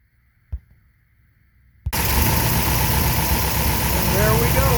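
A supercharged Studebaker Avanti engine cranks and catches after a quiet pause with a single click, then settles into a loud, steady, rumbling idle close by.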